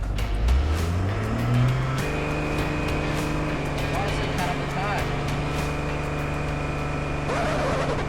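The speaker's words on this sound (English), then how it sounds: "The truck is gonna probably outpull the Can-Am." A truck and a first-generation Can-Am side-by-side on Mickey Thompson tires revving hard in a pulling contest, a rising engine sweep followed by sustained droning, with people talking and shouting over it.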